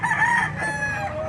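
A rooster crows loudly and close by at a livestock auction market in Lipa, one drawn-out call with a ragged, wavering tone.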